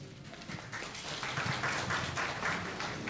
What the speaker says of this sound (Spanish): Vamos a recibirlo, por favor, con fuertes palmas.